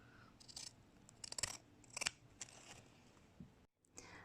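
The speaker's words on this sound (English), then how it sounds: "I prefer to use these scissors because I'm not going to finish the edge at all. I'm just going to cut it with these." Scissors snipping through thin upholstery fabric laid over a mattress for a tufted headboard: a close, quiet series of short crisp cuts and crunches in uneven bursts, with a brief pause near the end.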